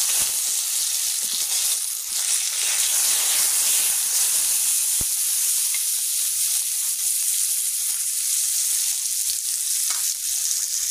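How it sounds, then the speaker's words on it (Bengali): Pointed gourd (potol) fries in mustard oil with a loud, constant sizzle and hiss that holds for the whole stretch, with a few faint clicks of stirring and no talk. "এই যে পটল ভেজে নেব।"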